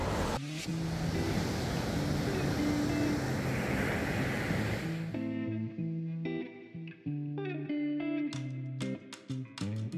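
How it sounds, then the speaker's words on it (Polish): Broadband ocean surf rush on a beach in Senegal fills the first half, then gives way to quieter water wash with scattered clicks and tones, loud and close. "Te fale są takie zdradliwe."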